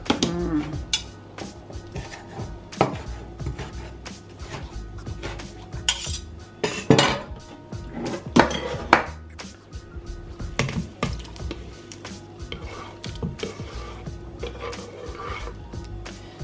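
Metal spoon clinking and scraping in a pot while chopped mussels, mussel juice and puha are stirred together, with irregular close clatters and knocks through a quiet kitchen.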